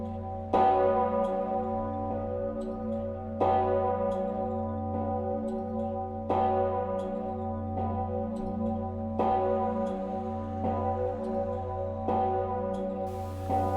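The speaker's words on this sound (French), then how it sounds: "Nous pouvons entendre retentir des cloches" A church bell tolls slowly and evenly, five resonant strikes about three seconds apart, each ringing out and fading beneath a low steady hum.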